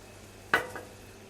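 One quick scrape and clatter as seafood strozzapreti pasta is tossed in a sizzling pan, followed by a softer second rustle over faint sizzling, all within a second.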